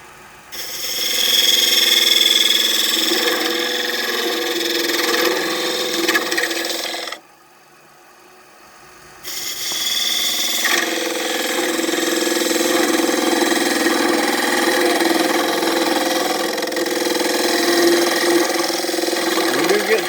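A wood lathe turns a very narrow spindle held against the tailstock, a loud running drone with scraping and vibration that briefly drops away before the cutting resumes.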